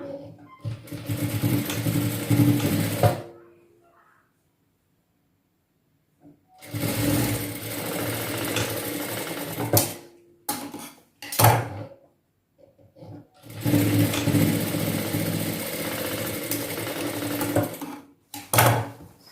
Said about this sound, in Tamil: பிடிச்சிட்டு தையல் போட்டுக்கலாம்.